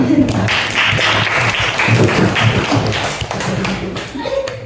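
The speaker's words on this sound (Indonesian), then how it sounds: "Pakai tepuk tangan." Classroom applause as pupils clap their hands after a lesson on making instant noodles. Dense, fairly loud clapping runs through the whole stretch, mixed with children's voices and some thumping.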